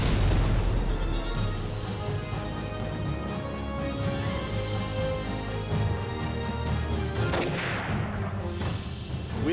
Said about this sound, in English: Motion Mines take out the Czech 6 tank.